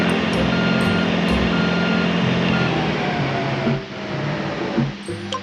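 Steady electronic reversing beeps from a construction vehicle backing up in Construction Simulator 3, repeating evenly over a low truck engine rumble that briefly drops near the end.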